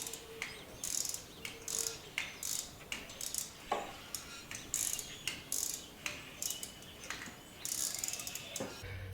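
A ratchet tightens a bolt on an aluminum part of a 1993 Ford Econoline during throttle position sensor work, giving repeated quick clicking bursts in a steady rhythm, close and moderately loud, with no talk.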